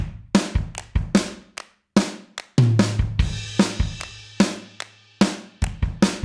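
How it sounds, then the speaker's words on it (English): Programmed drum kit from the Addictive Drums Fairview pack playing a groove alone, with sharp kick and snare hits in a steady pattern, ringing cymbals and a sustained low tom-like tone midway. "here we've got some drum bus from Addictive Drums"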